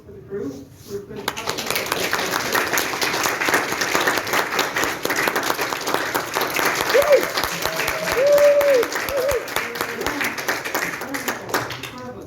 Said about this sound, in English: can I get a big round of applause for the crew?